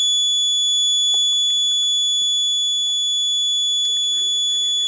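Steady, thin high-pitched electronic whine from a tablet holds throughout, with faint scattered clicks and rustles beneath it.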